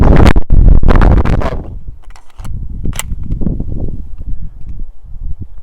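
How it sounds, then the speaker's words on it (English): An airsoft gun powered by an Asura CO2 cartridge fires BBs, several loud sharp pops close together in the first seconds and another single crack a moment later, followed by softer rustling and handling noise. "I want to see how many BBs I can shoot before it starts, you know, getting weak."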